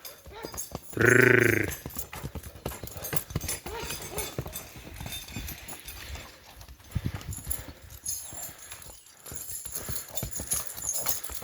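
Hooves of a draft horse mare clip-clop in a steady walking rhythm on a hard surface, close by, with a short loud whinny early on.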